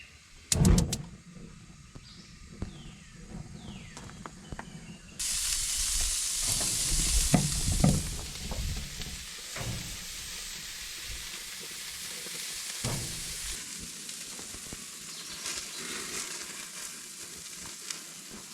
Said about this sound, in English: I'm gonna cook some burgers on the grill.